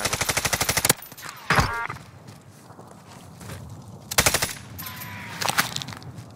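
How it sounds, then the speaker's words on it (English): Rapid automatic gunfire from Call of Duty multiplayer, a loud burst of machine-gun fire at the start followed by separate bursts and single shots, some close and some distant, with little talk. "He's getting shot from behind us too."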